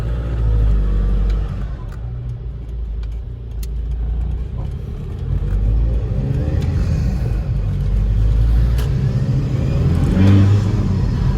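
A car fitted with a RamAir induction kit accelerates with a deep engine rumble and a rushing intake-air sound that builds steadily from inside the cabin.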